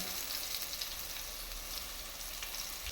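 Peanuts, chopped onion and green chillies fry in a pan with a dense, continuous crackling sizzle, close and steady for three seconds with no talk.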